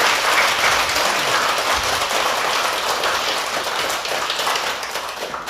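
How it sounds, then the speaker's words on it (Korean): At a Buddhist dharma talk in a temple hall, an audience gives a dense, sustained round of applause that stays loud and even, then thins slightly toward the end. "또 한 큰 박수 한번 보내주시기 바랍니다"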